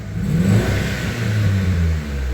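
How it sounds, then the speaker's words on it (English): A Gen 1 Mitsubishi Eclipse engine with EGR delete revs up and holds a droning, rising growl, then eases slightly, with hesitation at lower RPMs, close and loud with no talking. "you can hear it some revving"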